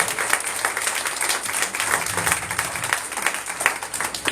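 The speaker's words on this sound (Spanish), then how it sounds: "Si lo crees, dale un aplauso al Señor" A church congregation applauds together, a steady wash of many hands clapping at moderate level without a break, with no talking over it.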